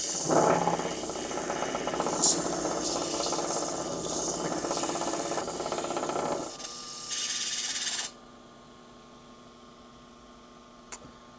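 Steady, loud lapidary grinding as the edge of a jasper stone is bevelled on a plate. A brighter whirring burst comes near the end, then the sound cuts off, leaving a quiet hum.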